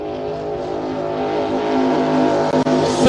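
An offshore superboat in a race on Lake Macquarie roars past with a loud, sustained engine drone that builds steadily, with a brief dip near the end.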